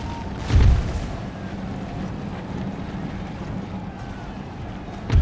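Cannon artillery fire in the Napoleonic-era strategy game Empire: Total War, with a deep boom near the start and another at the end over a steady rumbling battlefield background.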